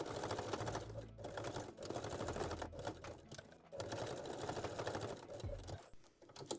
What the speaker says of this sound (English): backstitch both side seams with the straight stitch